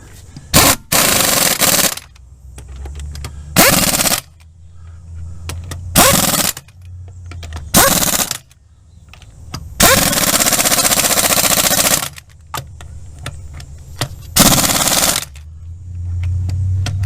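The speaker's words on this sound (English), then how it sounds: "Angry torque wrench." An impact wrench with torque sticks tightens the wheel lug nuts on a Chevy Impala in a series of loud, rattling hammering bursts, each a second or two long, separated by quiet gaps.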